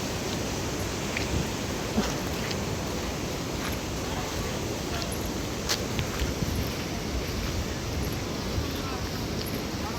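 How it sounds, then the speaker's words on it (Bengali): Steady rain falls outdoors at a roadside dhaba, a dense, even hiss throughout with occasional soft drips and taps, close and moderately loud with no speech. "ঘুরি ঘুরি বৃষ্টি পড়ছে"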